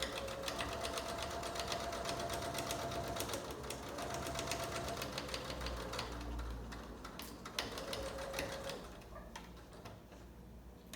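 A sewing machine runs steadily while stitching a handmade fabric mask, a close, even rhythmic ticking that pauses briefly now and then before resuming.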